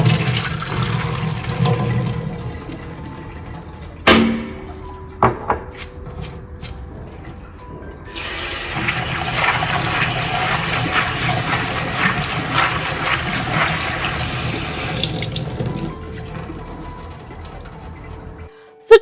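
Soaking water poured off rajma beans through a strainer, a gushing, splashing stream in bursts with pauses between, close and fairly loud.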